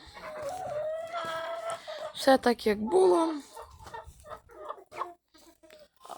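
Nearby chickens cluck and squawk in bursts, including a loud cackling flurry, while a person talks intermittently.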